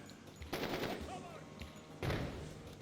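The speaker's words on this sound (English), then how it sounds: "we will toss in a frag" Frag grenade tossed into a room in Door Kickers 2, two loud bursts of blast and gunfire close by, about a second and a half apart, over a low background rumble.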